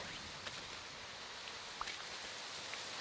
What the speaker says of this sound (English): The rain and everything is nice.